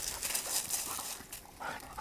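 A pointer bird dog gives soft, high whimpers during a quail hunt in Georgia, faint and close against an outdoor background of rustling and ambient noise.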